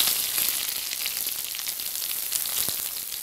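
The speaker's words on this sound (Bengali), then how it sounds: "এগুলো একটু ফ্রাই করে নেব" Whole spices frying in soybean oil in a pan, a steady, faint hissing sizzle with small crackles scattered through it.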